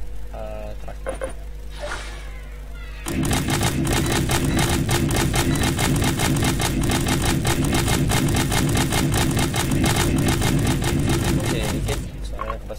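Tractor engine in the video game Growtopia: after a brief quieter opening, a loud, dense mechanical chugging starts and runs steadily with a fast, even rhythm, then cuts out near the end.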